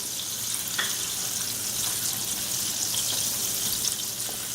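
Butter melts into hot olive oil in a pan over high gas, a steady close-up hiss and sizzle with faint crackles and occasional light pops, no voices.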